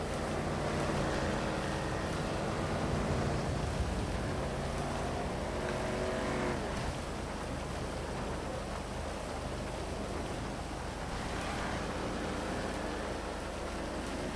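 Race cars from the video game GTA, a dense continuous engine roar with shifting, whining pitch that stays loud and steady throughout, with no talking.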